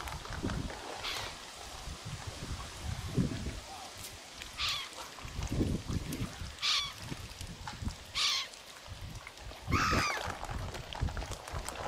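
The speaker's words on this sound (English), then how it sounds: "And a lot of seagulls as well." Seagulls call over a river, several loud squawks rising at intervals above a rough, gusty outdoor background with low rumbling noise.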